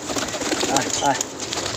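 Pigeons coo in short, low, throaty bursts, close by, over a faint background murmur.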